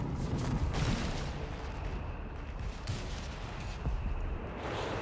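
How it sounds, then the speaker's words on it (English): Mines detonate in the strategy game Company of Heroes 3, a rumbling barrage of booms and crackling blasts rolling continuously over a dense battlefield din, heavy and low, with no clear voices over it. "setting off the mines laid down there carefully by Janko"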